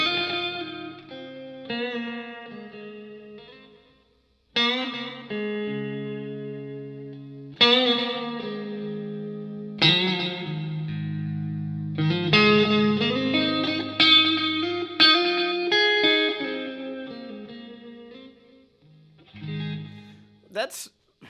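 A Stratocaster electric guitar plays a clean tone through a Line 6 Helix: separate chords and ringing single notes, each followed by short pauses, with a bright, shimmering sustain.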